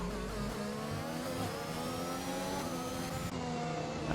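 Formula 1 cars in the RSF1 racing video game, with a loud, steady engine whine from a car overtaking in the slipstream with DRS open, and rising and falling pitch as cars pass close by. No one speaks.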